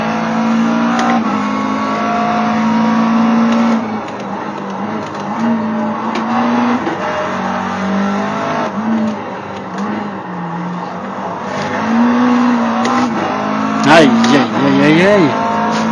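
A McLaren MP4 race car lapping Road Atlanta in a hardcore sim racing game gives a steady, loud onboard engine drone throughout, with a brief squeal of tires near the end and a voice speaking over it at times.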